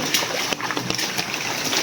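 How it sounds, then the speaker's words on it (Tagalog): Water flows behind a house on a banana farm, a steady broadband rush with small splashing bursts, close and continuous with no one speaking. "sa likod ng bahay ninyo, may umaagos na tubig"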